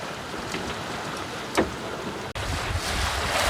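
A sailboat under way at over 6 knots off Fraser Island, with steady wash of water along the hull and wind buffeting the microphone, a brief louder splash midway, no talking.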